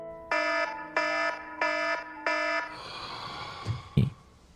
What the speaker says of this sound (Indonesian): Tepat pukul 8 pagi alarm Carter berbunyi